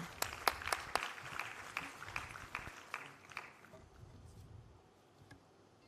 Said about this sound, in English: Can we give a good round of applause, ladies and gentlemen?